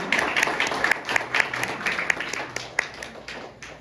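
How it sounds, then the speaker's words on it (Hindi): Audience applause for contestants at a World Hindi Day celebration at the High Commission of India in Kingston, a crowd of individual claps with sharp accents, fairly close and tapering slightly. "एक बार सबके लिए तालियां बजा के आप उनका उत्साह करें"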